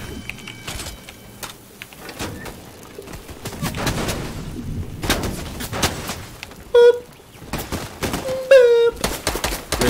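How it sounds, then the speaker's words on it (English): Fortnite gunfire as two players shoot at each other, a loud cluster of bursts with sharp cracks over game background noise, joined by a few chirping bird-like tones. "Two people shooting."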